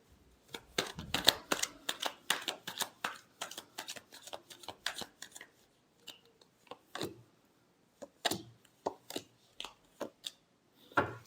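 Tarot cards shuffled by hand in a string of quick, crisp riffling flicks and snaps, dense at first, then sparser bursts after a short pause, close and fairly quiet with no talking.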